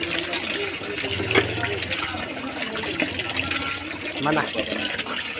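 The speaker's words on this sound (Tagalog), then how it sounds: "Nilalagyan ko na po ng tubig ang aking batya." Tap water runs steadily into a washbasin, filling it for rinsing clothes, a continuous splashing hiss close by, while a voice briefly speaks over it.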